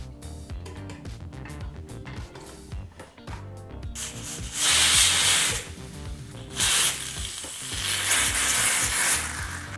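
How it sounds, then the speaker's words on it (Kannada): A pressure cooker loudly releases bursts of hissing steam as it whistles while cooking poha bisi bele bath, following a stretch of quieter rhythmic kitchen sounds. "ಈಗಿಲ್ಲಿ ಕುಕ್ಕರು ಎರಡು ವಿಸಲ್ ಬಂದಾಯಿತು"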